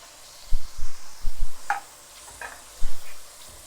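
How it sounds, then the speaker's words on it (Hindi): Chicken cubes fry with garlic in a hot pan, with a few soft stirring scrapes and faint sizzling heard at close range and no voices. "चिकन हमारा फ्राई हो रहा है।"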